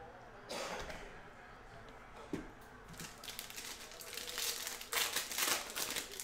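Foil packs of 2021 Mosaic baseball hobby cards are ripped open close by, crinkling and tearing in bursts that grow louder and denser toward the end over a faint background hum.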